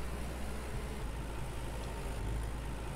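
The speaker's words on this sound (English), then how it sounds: "we'll take this tractor for a little bit of a ride." A tractor engine in the farming video game Farmer's Dynasty runs at a steady idle-like drone, a continuous low rumble with no break or change in pitch over the whole stretch.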